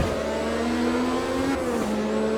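A turbocharged 1985 Formula 1 race car in the AMS2 racing game holds a loud, steady engine whine under acceleration, with a brief pitch drop like a gear change partway through and no talking.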